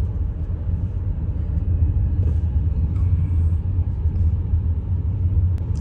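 An Audi A6 sedan driven in sports mode gives a deep, steady engine and road rumble heard from inside the cabin, fairly loud and even throughout with no talking.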